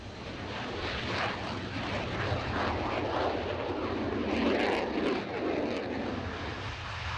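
Military aircraft engines roar continuously at close range during a hot-weather operation, a dense, loud wash of jet noise swelling slightly and carrying some wind buffeting, with no voices.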